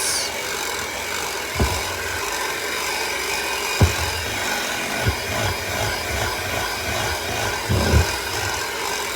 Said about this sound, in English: and we're mixing it a little bit again.